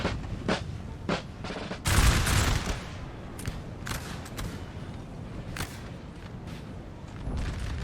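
Musket volleys and artillery booms roll across a large Napoleon: Total War battle at Toulouse, with scattered crackling shots and a loud heavy burst near the start, all distant and layered.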